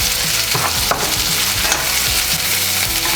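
Tomatoes and halloumi sizzle loudly in a hot frying pan during breakfast cooking, a dense, steady crackle with occasional stirring clicks and no voices.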